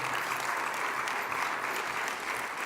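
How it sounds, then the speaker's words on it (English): An audience at a Kennedy Forum event applauds with dense, steady clapping that fills the whole moment, loud and unbroken. "give yourself a hand because you guys have all the patience in the world"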